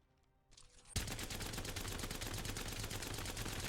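Rifle with a turbocharger attachment firing in Apex Legends: a faint charge-up whine, then a loud, continuous rapid-fire burst of close gunshots that holds steady to the end.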